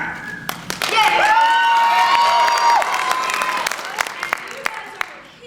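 A studio audience cheers and claps loudly for a team in a game, with high shouts and whoops swelling into a sustained roar before fading back toward scattered claps, while talk runs underneath.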